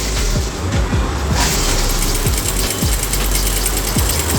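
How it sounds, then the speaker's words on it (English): A sewing machine stitches a canvas zip pocket with a loud, continuous whir. Repeated sharp ticks from the needle run through it at an uneven rhythm, close up, and nobody speaks. "we'll keep this canvas and we'll stitch here from all the side"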